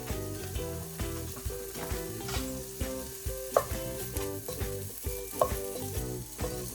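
Pasta carbonara frying in a pan on medium heat, a soft steady sizzle with repeated stirring and scraping clinks at a loose rhythm, faint and close, with no speech.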